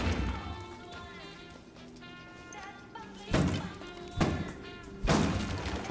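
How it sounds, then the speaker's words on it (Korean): Objects get smashed apart in the video game Mafia III: three loud, heavy thuds and crashing breaks arrive a second or so apart after a quieter stretch of game background sound. "아, 부서뜨려."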